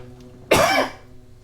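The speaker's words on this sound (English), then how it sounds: "I just have a little cough every now and then" A single sharp cough from a man with a cold, close and loud, bursting out briefly against a faint hum from a Roland System-8 synthesizer, with no talk around it.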